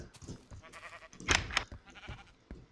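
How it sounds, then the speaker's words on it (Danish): Sheep bleating in the video game Minecraft, a short wavering bleat with softer game sounds and faint background noise around it. "der render så et får rundt derude"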